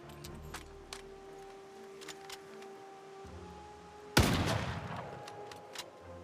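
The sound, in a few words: shotgun gunfire in Project Zomboid video game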